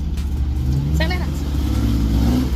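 4x4 engine on an off-road trail revving and accelerating, a steady loud low rumble with rising pitch, while a person speaks over it.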